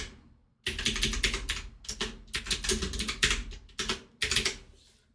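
Rapid bursts of typing on a computer keyboard, close and crisp, with quick clusters of key clicks broken by short pauses.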